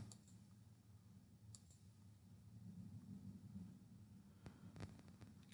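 Computer mouse clicks opening a link in a new browser tab: a few faint, sharp clicks spaced out over a low steady hum, with no talk.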